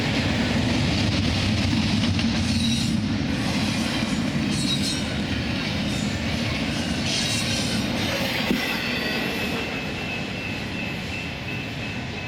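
Norfolk Southern train B-71 rolling past near Romulus, a continuous loud rumble of wheels and cars that eases slightly toward the end, with an aircraft drone mixed in.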